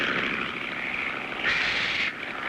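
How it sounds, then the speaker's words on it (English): Propeller plane droning low overhead in a cartoon, a loud steady engine hum that swells briefly as it passes close, with no voices. "I hear an airplane. Sounds pretty low, too."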